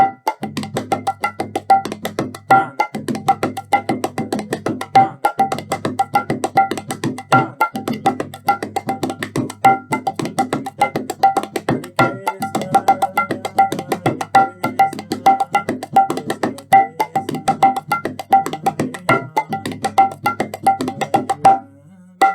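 Dense, fast rhythmic tabla drumming with resonant pitched strokes and sharp slaps, played continuously at a steady tempo with no voices.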